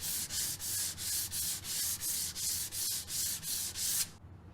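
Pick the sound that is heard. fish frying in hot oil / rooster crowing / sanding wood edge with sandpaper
sanding wood edge with sandpaper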